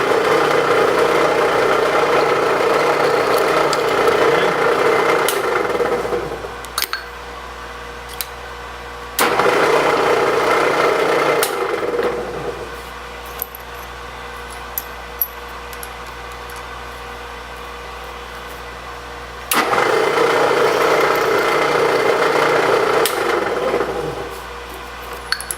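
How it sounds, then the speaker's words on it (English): A small drill bores a pilot hole in the middle of a part, heard as three bursts of steady, close motor whine separated by quieter pauses. "I've got to go down through with a small drill right in the middle to start with"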